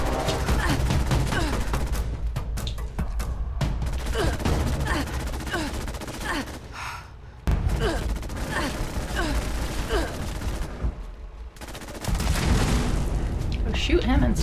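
Bursts of rapid gunfire and booming blasts from the video game Fallout 76 crackle loudly and almost without pause, layered under excited talking and shouting.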